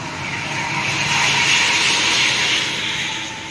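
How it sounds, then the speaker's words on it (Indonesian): Loud exhaust of a passing Cakra Dewa transport bus on an Indonesian road, a broad steady roar that swells to a peak midway and stays strong before easing slightly, with no talk. "Wah, knalpotnya tuh sos banget tuh."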